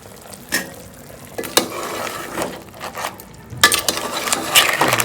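Crab curry with masala paste is stirred in a pan, giving a soft ongoing sizzle broken by several distinct scraping strokes of the spoon, loud and close.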